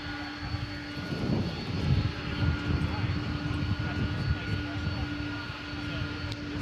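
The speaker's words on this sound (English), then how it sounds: "there's the MD-11 that came in just a few minutes ago" An MD-11 jet airliner rumbles steadily at DFW Airport, a broad low engine roar heard from a distance and holding fairly even throughout.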